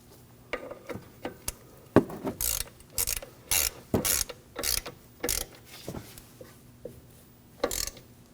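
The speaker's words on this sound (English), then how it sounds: "We're going to tighten the banjo bolt until we feel the crush washers set." Brake hose banjo bolt being tightened by hand with a ratchet on a 2013-2015 Subaru XV Crosstrek during a rear brake hose replacement, giving a string of close, crisp ratcheting clicks in short bursts with brief pauses between.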